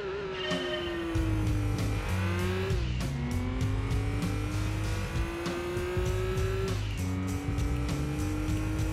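A Nissan Skyline races in Gran Turismo 2, its engine revving loud and continuous and climbing through the gears with several sharp shift drops, and a steady game soundtrack plays underneath.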